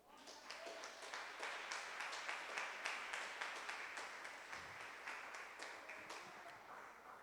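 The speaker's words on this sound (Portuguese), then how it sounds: "Vamos aplaudi-lo?" Congregation applauding during a sermon about the Lord's Supper: continuous, even clapping from a crowd across the whole span, faint and somewhat distant.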